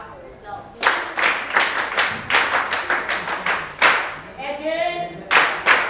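An audience at a menstrual health campaign launch claps in several bursts, the applause loud and close, swelling and fading with brief gaps between rounds.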